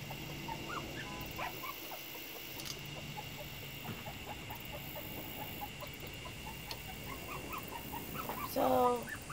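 A little puppy whimpers indoors with scattered high, thin cries over a steady electrical hum, rising to a louder burst of yelping near the end.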